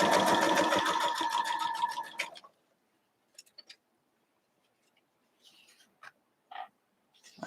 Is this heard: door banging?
no